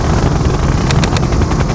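Siege Chopper helicopter from the Red Alert 2 Yuri's Revenge strategy game, a dense, loud whirring rotor roar with a few sharp bursts of gunfire cutting through partway.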